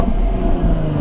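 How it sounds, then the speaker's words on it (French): A Jaguar F-Type 340 hp V6 idling or revving in neutral, a dense low rumble held steady and close for about a second with no talk. "Là, le bruit qu'il fait, mec, le V6."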